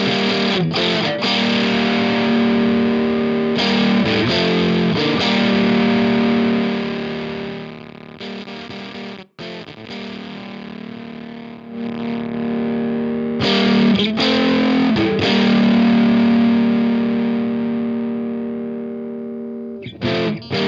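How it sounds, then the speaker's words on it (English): Heavily distorted electric guitar through a Big Muff-style fuzz pedal with its volts knob set for sputtering, gated fuzz tone, chords cutting in and out abruptly, loud and up close with no talking. "the distortion side has this volts knob, which lets you get some neat sputtering type of effects from the distortion."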